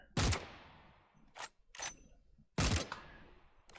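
Sniper rifle shots ring out on a firing range in the video game Delta Force Hawk Ops, with two loud, sharp reports each followed by a long decaying tail, and quieter bolt and handling clicks in between.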